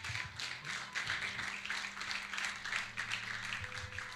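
A church congregation applauding, a brisk, fairly quiet patter of many hands clapping steadily throughout with a faint hum beneath and some faint background voices.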